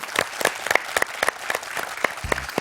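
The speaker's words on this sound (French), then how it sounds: "Je vous applaudis, Laurent." Studio audience applause on a French television quiz show, a burst of many hands clapping in a steady dense patter for a few seconds, fairly close and alone without voices.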